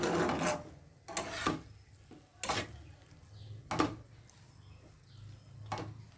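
A spoon scrapes and stirs a mash of eggplant and egg in a pan, giving several separate rasping strokes spaced a second or so apart over a quiet background, with no talking.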